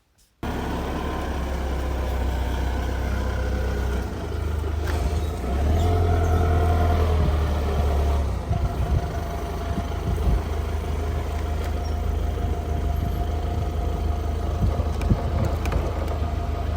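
An old pickup truck's engine runs steadily with a low, rough drone and road rumble, close and continuous, with no talking over it.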